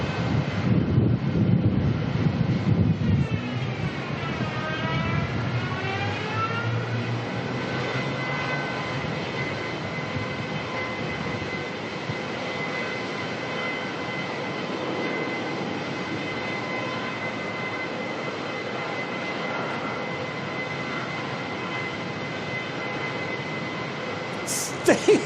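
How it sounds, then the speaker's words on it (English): A Jetstar Airbus A320 arriving from Adelaide at Melbourne Airport passes with a loud jet roar and a falling engine whine, then settles into a steady distant rumble that fades gradually. "Jetstar coming on in next from Adelaide on their A320."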